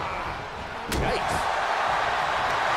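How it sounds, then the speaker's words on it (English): A wrestler slams an opponent onto the ring mat during a WWE Royal Rumble match, one loud heavy thud cutting through a constant roaring arena crowd. "The Hulkster with a body slam."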